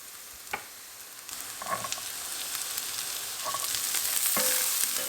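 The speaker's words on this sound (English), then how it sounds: "then sauteing some onions, of course." Onions sautéing in butter and olive oil, a steady close sizzle that swells gradually, with a few sharp clacks of a utensil against the pan and no voices.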